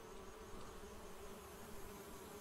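Bees buzzing in the point-and-click adventure game Secret Files Puritas Cordis, a continuous faint droning hum that holds steady throughout with no voices.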